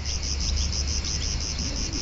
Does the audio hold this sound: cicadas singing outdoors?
yes